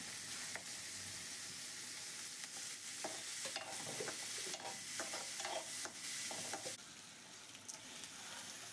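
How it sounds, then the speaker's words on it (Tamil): Garlic and onions frying in a pan for bitter gourd kulambu: a quiet, steady sizzle runs throughout while a spoon stirs and scrapes in irregular strokes, close up, with no voices. "வெங்காயம் போட்டு வெங்காயத்தை நல்லா வதக்கணும்"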